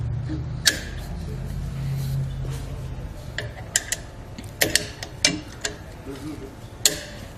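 Metal pins slid back into a Hollywood Racks Trail Rider two-bike hitch rack after its arms are folded up, giving several sharp clicks and clanks close by, with a low rumble early on.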